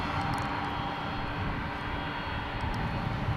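A jet airliner engine roars continuously at DFW International Airport, a loud, steady rumble and whine close by with no speech over it.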